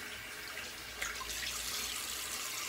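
Steady water from a tap streams continuously while a straight razor is rinsed, a soft hissing flow with a slight splash change partway through, no voices.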